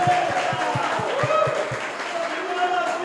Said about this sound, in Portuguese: Vamos dar um lindo aplauso